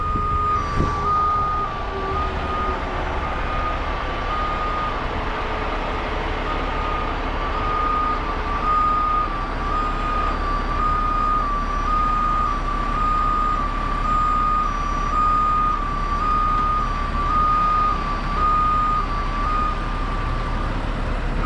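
A rotator tow truck backs up with a steady, repeating reverse alarm beeping loud and close over a constant diesel engine idle, with no talking.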